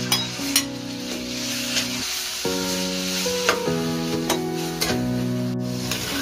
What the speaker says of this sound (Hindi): चिकन को हम अच्छी तरह से सौते करेंगे गार्लिक में